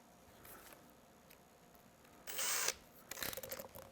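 A 7/64 drill bit being fitted into a cordless power drill: quiet handling clicks, then a short loud ratcheting burst from the chuck and a rougher clattering spin after it, with no talk.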